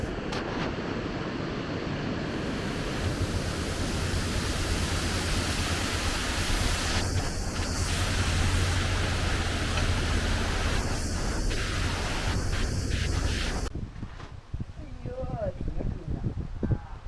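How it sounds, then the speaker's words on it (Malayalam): Strong gusting wind roars steadily across an open outdoor area, loud and broadband, with occasional voices faintly under it before it drops away abruptly near the end. "ഭയങ്കര കാറ്റാണ്."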